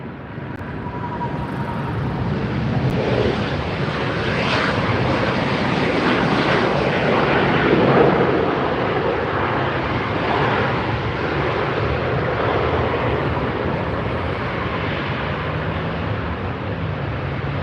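A Southwest airliner arriving on the runway at LAX gives a loud, steady jet roar that swells to a peak midway and then holds as a broad, sustained rumble at close range.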